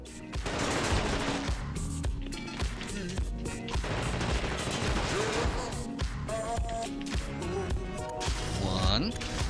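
Gunfire from The Thing video game, dense and continuous bursts mixed with loud game sound and music, with speech present throughout.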